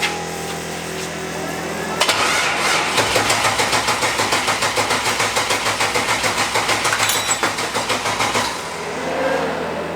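A turbocharged V8 Mustang engine cranks with the spark plug wires off one side: a loud starter kicks in, then about six seconds of rapid, even, chugging turnover that never catches, then it stops.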